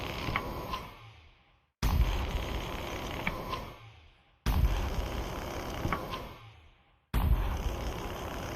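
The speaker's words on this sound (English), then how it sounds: "I've managed to open the hatch leading to the storage area." Bolts being cut and a hatch forced open in the VR game Lone Echo 2: three bursts of loud grinding, creaking metal mechanism noise, each fading out before a short silence.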